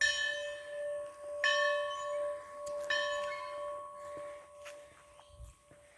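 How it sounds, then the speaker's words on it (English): An old bell at Mount Locust rings three times at a slow, even pace, each strike clear and ringing out with a long fading tone. Soft footsteps and rustling follow the last strike. "I guess the bell was for when it was meal time"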